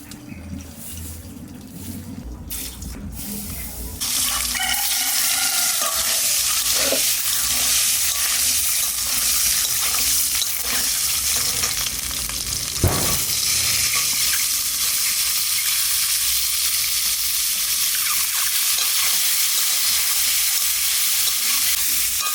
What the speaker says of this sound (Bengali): ডিম সিদ্ধ করে ছাড়ানো হয়ে গেছে, এবার ডিমটাকে একটু ভেজে নেবো হালকা করে।